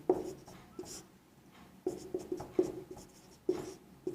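Writing on a board during a class 6 maths lesson, with short scratchy strokes and taps in quick bursts separated by pauses, close and fairly quiet.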